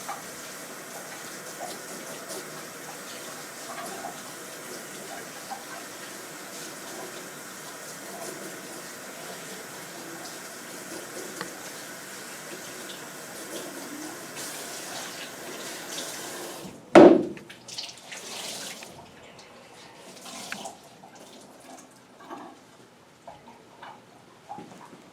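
A faucet runs steadily as a towel is soaked at a barbering station sink, a constant close hiss for most of the stretch, then a sharp clunk and quieter handling sounds after the flow stops.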